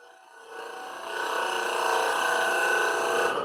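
Teardrop cutter of T1 high-speed steel shear scraping a wooden snowflake bowl spinning on a lathe, a steady gritty whirring scrape that swells after the first half second and holds close and even throughout.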